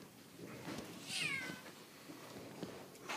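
A cat meows once, a rising-and-falling cry close to the microphone, with quiet room noise around it.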